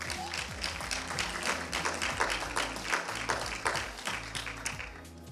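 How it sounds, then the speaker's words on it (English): A church congregation applauds, giving many sharp, irregular claps at close range that thin out toward the end, with low background sounds beneath them and no speech. "Clap your hand and give them a praise offering."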